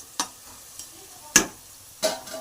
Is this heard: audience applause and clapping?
no